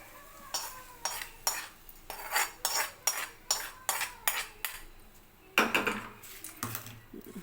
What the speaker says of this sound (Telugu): ఇదంతా కలుపుకోవాలి ఒకసారి